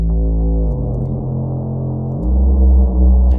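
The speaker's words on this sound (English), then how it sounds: "this bass, it's a Reactor Monarch, which is the official bass synth of Reactor" Deep, heavy Reaktor Monarch bass synth tone thickened with an R Bass plugin for burial bass, sustained and loud with no gaps, dropping in pitch early on and rising again near the end.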